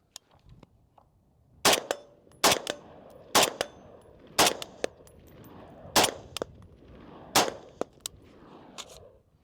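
An FN SCAR 16 rifle fires about five sharp, loud shots at an outdoor range, evenly spaced with short gaps and ringing tails between them.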